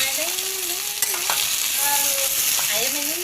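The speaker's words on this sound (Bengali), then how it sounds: "এই যে আমাদের বাঁশ ভাজি হয়ে গেছে" Bamboo shoots fry in a pan with a bright, continuous hiss and occasional stirring knocks, while a wavering tonal sound drifts faintly in the background.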